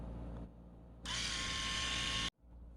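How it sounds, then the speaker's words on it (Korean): A budget 4D electric shaver, rated for about 80 minutes of use on a 2-hour charge, buzzes steadily and loudly for over a second while shaving, then cuts off abruptly, with a quieter motor hum before and after. "가성비 300 전기 면도기로 면도를 해보도록 하겠습니다"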